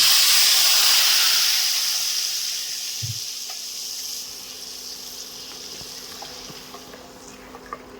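Spice paste with Kashmiri chili powder sizzles and hisses as it hits hot oil for a rohu fish curry gravy, a loud initial sizzle gradually settling into a steady, softer frying hiss with occasional small pops.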